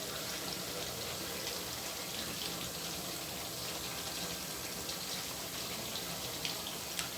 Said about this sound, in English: I just put the water that I'm going to use to boil my rice